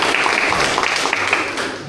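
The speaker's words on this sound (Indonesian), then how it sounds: "Tepuk tangan dulu buat kita semua." Junior high school students at a population-awareness school session in Kepil applaud together, a dense, loud, close burst of clapping that stays steady for a short moment.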